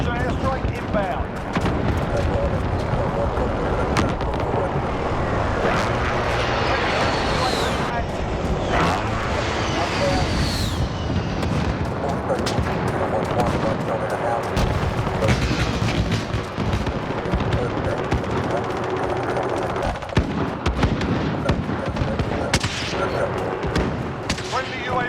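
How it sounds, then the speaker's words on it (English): Dense battle noise in Call of Duty Modern Warfare 2019, with repeated booms, gunfire bursts and explosions from a friendly precision airstrike rumbling throughout, while voices talk over the action. "Be advised, friendly precision airstrike inbound."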